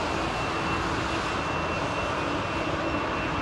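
Rolls-Royce Trent airliner engines powering up at Heathrow Airport, a dense, steady roar with a thin whining tone, loud and continuous.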